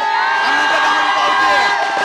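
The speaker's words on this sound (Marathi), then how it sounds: "या ठिकाणी मुरलीधर मोहोळ यांच्या कार्यालयाच्या बाहेर जल्लोष सुरू झालेला दिसतोय" Party workers celebrate outside the office of Murlidhar Mohol after the 2024 Pune Lok Sabha election result, a loud, continuous crowd roar of cheering and whooping.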